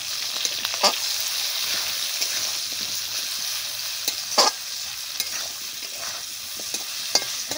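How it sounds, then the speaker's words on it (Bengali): Potatoes frying in a pan with salt and turmeric, a constant close sizzle broken by a few sharp spatula scrapes and taps as they are stirred. "এবার আলুটাকে ভালো করে ভাজা করে নেব।"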